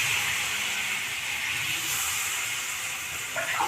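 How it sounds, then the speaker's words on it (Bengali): Water going into a pan of frying rohu fish curry with ridge gourd makes a loud, continuous steamy hiss and sizzle that holds steady from start to finish. "এবার জল দিচ্ছি।"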